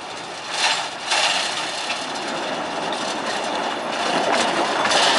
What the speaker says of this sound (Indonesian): lokomotif Hokuriku nomor 4 melewati jembatan dan akan disusul lokomotif Hokuriku nomor 9